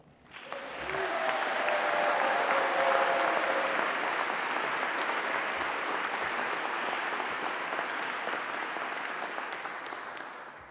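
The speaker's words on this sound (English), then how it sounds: "perhaps we could give them a round of applause and they might still hear it" Audience applause at a university graduation ceremony in Greenwich, a large crowd clapping steadily and loudly for about ten seconds before tapering off, with no talk over it.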